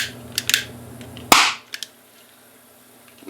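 A sharp, loud bang from an induced implosion charge set off in water, rising to 18 volts, cracks once with a brief bright burst, surrounded by a few smaller clicks and snaps before and after.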